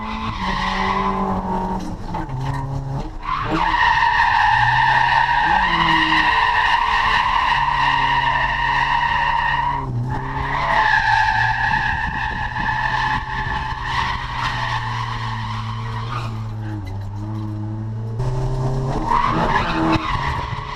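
A car drifts around the Winton race track, the engine holding high revs as the tires squeal and skid in long sustained slides, loud and close, with brief drops between passes.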